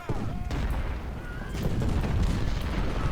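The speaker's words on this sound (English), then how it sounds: "Our 10-pounder ordnances are doing some good fire." Dense battlefield din from Ultimate General: Civil War, with 10-pounder ordnance artillery and musket volleys rolling into a continuous loud roar of overlapping booms and crackling fire.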